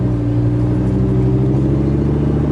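An Audi R8 sports car fitted with an aftermarket exhaust rumbles loudly and steadily close by, with a sustained low engine drone and no talking.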